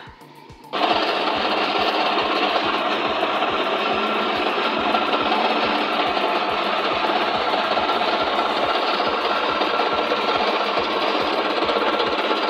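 A machine made in Togo presses briquettes, starting abruptly and running continuously with a loud mechanical rattle and fast, regular thumping strokes.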